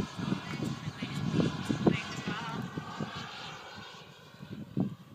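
An ultralight aircraft engine drones steadily in flight, loud and close with a broad buzzing roar that stays continuous throughout, with voices briefly audible over it.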